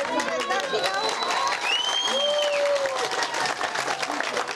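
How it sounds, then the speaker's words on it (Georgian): Protesters in Gonio gathered outside the council building applaud a council decision they had demanded for 15 days, producing continuous dense clapping with whistles and scattered voices mixed in. "გონიელები, რომლებიც ამ გადაწყვეტილებას 15 დღის განმავლობაში საკრებულოსთან გამართულ საპროტესტო აქციაზე ითხოვდნენ, სიახლეს ოვაციებით შეხვდნენ"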